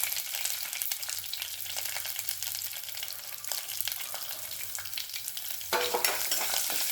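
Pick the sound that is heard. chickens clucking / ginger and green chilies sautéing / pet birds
ginger and green chilies sautéing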